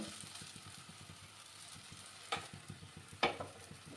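Atta batter frying in hot oil, a low steady sizzle close up with soft rhythmic bubbling and two sharp spattering bursts toward the end.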